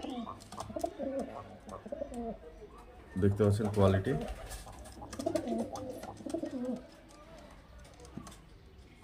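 Pigeons cooing at a loft, a short burst of throaty, rolling coos in the middle while someone talks before and after.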